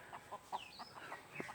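A large native rooster gives a quick series of soft, close clucks with a brief rising squawk, heard alone and fairly quiet.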